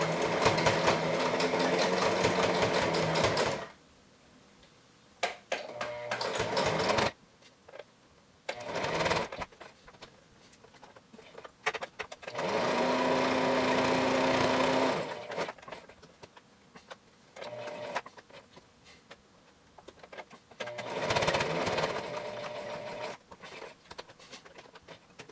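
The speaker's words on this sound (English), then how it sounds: "we're going to do the outer stitching." A sewing machine stitches the outer seam of a fabric COVID-19 mask, running in several bursts of rapid whirring that stop and start, with quiet gaps between them.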